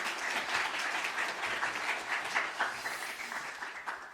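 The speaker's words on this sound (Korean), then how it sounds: "박수로 격려하겠습니다." A church congregation at a Sunday worship service claps together, a dense and fairly loud burst of applause that stays steady for several seconds before easing slightly.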